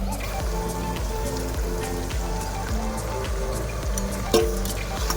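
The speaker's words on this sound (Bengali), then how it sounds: "মাছের মাথাগুলো এবার দিয়ে দিচ্ছি।" Katla fish heads hit a hot pan for a cabbage ghonto, giving a steady sizzling hiss with a spattering crackle that stays loud, plus one sharp sputter near the end and a low hum underneath.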